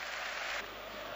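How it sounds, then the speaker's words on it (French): A football stadium crowd at Sclessin applauds during a Standard Liège versus Club Brugge match, a dense, continuous wash of clapping and crowd noise heard from a distance at low level. "c'est tout le stade de Sclessin qui applaudit"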